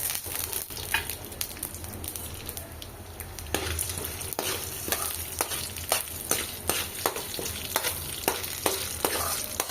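Urad dal and chana dal fry in a pan for a radish chutney, crackling and sizzling up close while a spoon scrapes through them in frequent sharp strokes.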